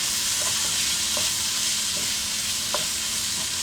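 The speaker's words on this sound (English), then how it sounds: "Get this all stirred in there." Garlic and seasonings being stirred into sizzling bacon cheeseburger macaroni in a hot pan, a constant loud frying hiss with occasional soft spoon scrapes, close and without talking.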